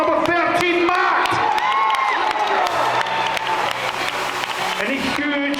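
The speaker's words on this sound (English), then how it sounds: "And a huge round of applause for all of our phenomenal physique." An audience at a British physique bodybuilding competition claps, cheers and whoops loudly for the athletes, a continuous crowd roar with shrill shouts and a voice over the speakers running through it.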